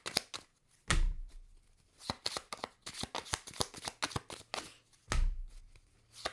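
Tarot cards shuffled by hand in a run of quick, crisp riffling bursts and soft slaps, close and fairly quiet, with a few heavier thumps of the deck between the flurries.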